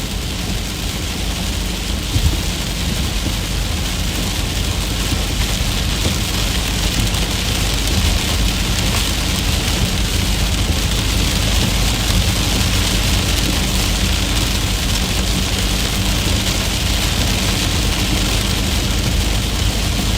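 Heavy rain pours down during a strong thunderstorm in Missouri, a loud, steady, dense roar of falling water that continues unbroken throughout, with no voices.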